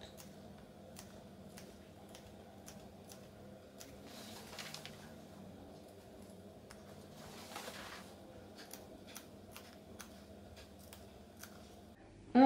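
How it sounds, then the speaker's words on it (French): Scissors snip notches into a fabric seam allowance while sewing a simple dress, a series of faint, crisp clicks spaced irregularly over a low steady hum, with a louder knock right at the end. "Au niveau de la pointe du V, on crante jusqu'à la couture. On crante les arrondis."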